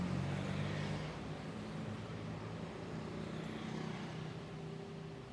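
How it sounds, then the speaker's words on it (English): Traffic drones along a busy street in Thailand lined with stalls, a continuous mid-level wash of passing vehicle engines with a deeper rumble of a heavier vehicle swelling early, steady and unbroken throughout. "I'm walking down a busy street in Thailand with a fair amount of traffic noise"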